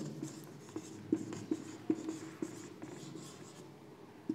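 Pen writing by hand on paper, quiet scratchy strokes with small taps and pauses in an irregular rhythm, close up and faint, with no talk.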